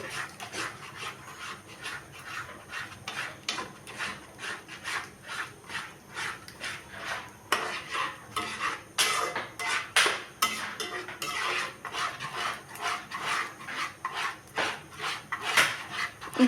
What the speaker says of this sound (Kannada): ಚೆನ್ನಾಗಿ ಮಿಕ್ಸ್ ಮಾಡ್ಕೊಳ್ಳೋಣ ನೋಡಿ ಚೆನ್ನಾಗಿ ಮಿಕ್ಸ್ ಆಗ್ತಾ ಇದೆ ನೋಡಿ